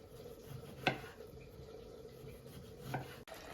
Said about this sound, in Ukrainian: А я тим часом наріжу кубиком помідорки.